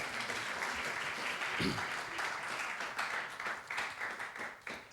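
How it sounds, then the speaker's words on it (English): An audience at a panel discussion on young climate changemakers applauds, a broad wash of many hands clapping that holds steady throughout, with scattered sharper claps toward the end. "give a huge round of applause"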